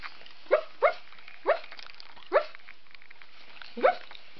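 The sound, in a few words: puppy barking and whimpering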